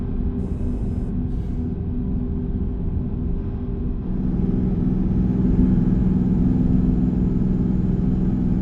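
A steady, loud truck engine drone in American Truck Simulator with a deep rumble, its pitch rising partway through as the truck speeds up on a highway, with no talking.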